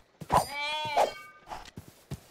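A large sheep-like creature in the Minecraft RLCraft modpack bleats twice in long, wavering calls, loud and close, followed by a few softer game noises.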